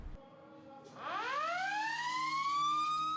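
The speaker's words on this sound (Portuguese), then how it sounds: "Ao primeiro soar da sirene" A siren winds up from low to a loud, steady high wail that holds to the end.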